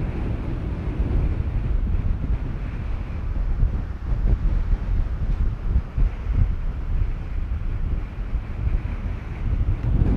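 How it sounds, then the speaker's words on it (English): Strong outdoor wind buffets a small microphone at an RC glider slope-soaring site, making a continuous loud low rumble and roar that swells and gusts without a break. "This is a strong wind."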